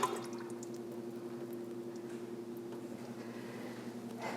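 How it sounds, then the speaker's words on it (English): A can of red enchilada sauce is emptied into a dish for chicken enchilada dip, giving a soft, wet, dripping pour over a steady low kitchen hum, with no talking. "Now I'm gonna put in a can of red enchilada sauce."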